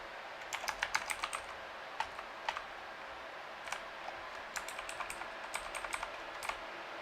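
Bursts of keystrokes on a computer keyboard while Python code is being written, quiet clicks in irregular clusters with pauses between runs, no voices.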